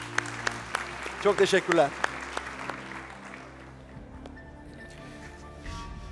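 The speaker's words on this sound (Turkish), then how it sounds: "Sizi alkışlarla yerinize uğurlayabiliriz" Studio audience clapping on a TV talent show, a short burst of applause that fades quickly, with a voice speaking briefly over it.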